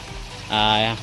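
A short burst of pump-fed water pouring into a container in a crab-holding system starts abruptly halfway through, after a moment of low rumbling from the pump motor and a brief voice.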